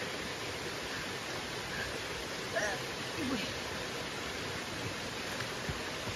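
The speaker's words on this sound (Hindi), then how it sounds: "और ये हम पहुंच गए यहाँ की नदी रहती है। अभी तो बात रात हुई है तो पानी का फ्लो बहुत ही कम है।" A mountain river in the jungle near Guptkashi running at low flow, a steady broadband rush of water heard close and continuous, with a faint bird call or two above it and no talking.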